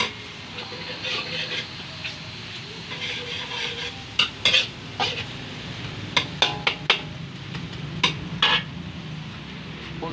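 Dinuguan ingredients with iba fruit sautéing in a pan give a continuous hiss and sizzle. Sharp metal scrapes and clinks of stirring come in a cluster during the second half.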